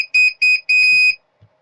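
A LiPo battery alarm plugged into the balance port gives loud, shrill electronic beeps in a rapid burst of several pulses, the last one longer, then stops, followed by faint handling noise.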